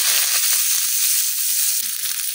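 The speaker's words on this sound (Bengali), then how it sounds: "এখন আমি এই তেলের মধ্যে দিয়ে দেন পেঁয়াজ কুচি গুলা" Chopped onions hit hot oil in a village kitchen and sizzle loudly, a steady close-up hiss that runs unbroken from start to finish.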